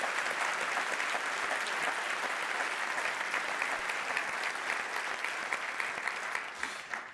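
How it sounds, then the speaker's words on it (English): Crowd at a nature award event applauds the nominees, a sustained dense wash of clapping holding even from start to finish, moderately distant and without talk. "Please give them a round of applause."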